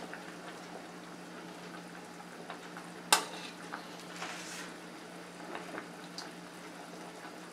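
A pot of old-fashioned chicken dumpling stew coming back to a boil, with a soft, steady bubbling and simmering hiss and one sharp clink partway through, quiet and close.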